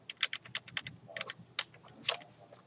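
Quick bursts of keystrokes on a computer keyboard while code is entered, light clicky taps in uneven clusters with short pauses, close and fairly quiet.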